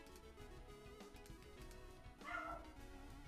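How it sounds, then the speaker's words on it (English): A dog barks a few times indoors in the middle distance, the yips faint and partly buried under steady background noise, with no talk. "I'm gonna have to go see what he's barking at"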